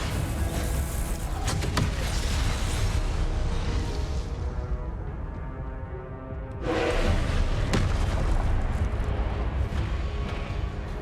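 Confringo and Incendio spells cast in Hogwarts Legacy, loud roaring fiery blasts and booming bursts filling the scene, briefly easing before another dense burst surges back.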